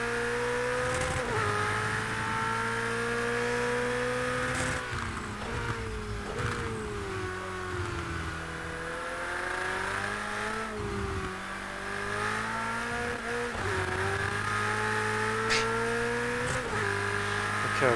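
A Ferrari 488 GTE race car in the sim racing game rFactor 2 revs and shifts again and again; the engine note climbs and drops with each gear change and stutters before the rev limiter, loud and close, with no talk.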